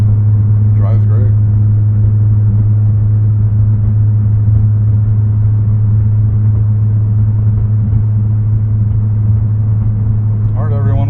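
A 2012 Nissan GT-R R35 cruises steadily on cruise control, its engine and road noise forming a constant deep droning rumble inside the cabin with no change in pace.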